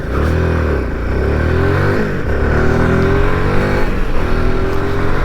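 A Royal Enfield Himalayan 450 motorcycle pulls away from traffic lights, its engine climbing steadily through rising revs, loud and close and fairly continuous, with other traffic faintly around it.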